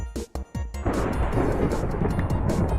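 Loud rolling thunder from a storm in the Minecraft video game, a sustained broadband rumble filling the clip after a few sharp cracks at the start, heard alone without speech.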